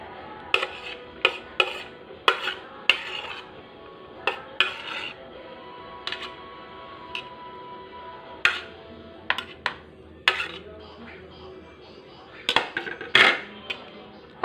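Atchara ingredients being mixed in a bowl, a series of sharp clinks and clatters of utensil against the bowl at an irregular pace, close and distinct over a quiet background.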